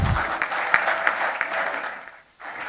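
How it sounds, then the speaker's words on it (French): Audience applause at a closing ceremony, a crowd clapping steadily with a few louder claps, briefly dipping near the end before resuming. "Deux grandes dames, il faut les applaudir s'il vous plaît."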